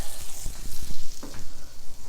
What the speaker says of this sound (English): I'm going to toast our hamburger buns